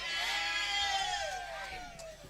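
A female cow calls out with a long drawn, bleating moo that falls slowly in pitch, loud and fairly close, filling most of the moment with faint voices beneath.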